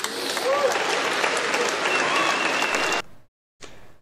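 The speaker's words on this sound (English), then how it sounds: "And then followed by a round of applause." Round of applause from an audience at a university event, dense clapping that fills the first three seconds, then cuts off abruptly, followed by a brief fragment of clapping.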